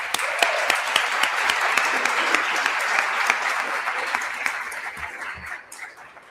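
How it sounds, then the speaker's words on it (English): A conference audience gives a big round of applause for a guest, loud steady clapping from a sizeable crowd holding for about five seconds, then tapering off. "So could we give a big round of applause for Ron Laauo,"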